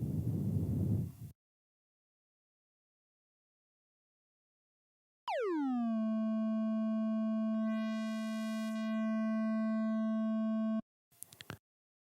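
Oscillator tone from an Access Virus Classic synthesizer: a clean steady pitched note with a quick downward swoop at the start, holding for about five seconds alone before stopping, followed by a short burst.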